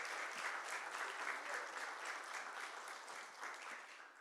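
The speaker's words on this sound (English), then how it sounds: "let's do a big round of applause for every parent that is videotaping." Sustained applause from an audience in a council meeting chamber, a steady, fairly distant wash of many hands clapping that fades slightly toward the end, no voices.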